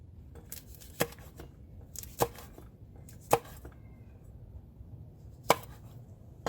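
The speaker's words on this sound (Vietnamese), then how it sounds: "sẽ cắt thêm một trái ớt đỏ nữa nha" A knife chops through a red chili pepper on a cutting board, five or six sharp, close knocks spaced about a second apart, with softer slicing between them and no talk.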